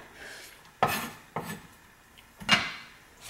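A knife chopping garlic on a cutting board, three separate sharp knocks spaced about half a second to a second apart, close and clear.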